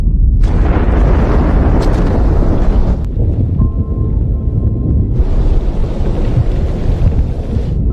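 A film explosion of a mine blown under German lines at Messines, a huge sustained rumbling roar with crackling debris that dips briefly and then surges again, loud and continuous.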